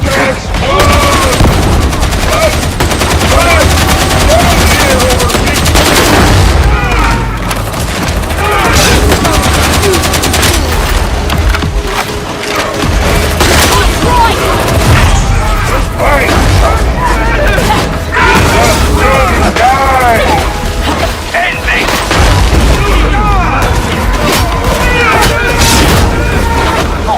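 Video-game combat fills the scene with repeated bursts of gunfire, sharp shots and booming explosions including a grenade blast, dense and loud throughout, with voices speaking amid the battle.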